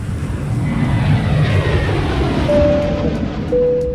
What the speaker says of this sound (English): I'm on a private jet